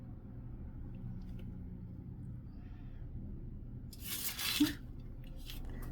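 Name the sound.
fan blowing rustling tin foil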